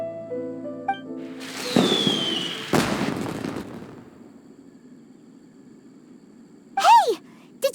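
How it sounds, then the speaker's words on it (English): Fireworks explode in Genshin Impact during the Lantern Rite festival, with two broad bursts followed by a rumbling tail and a later whistling, descending tone, mixed with game music and sound effects. "Did you hear that explosion? Maybe it was fireworks."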